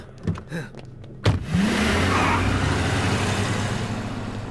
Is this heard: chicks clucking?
no